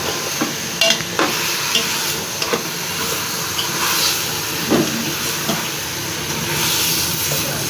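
Aloo methi, potatoes with fenugreek, roasting in a pan, with a continuous frying sizzle and hiss broken by scraping strokes and clinks of the stirring spoon, close up and with no talking.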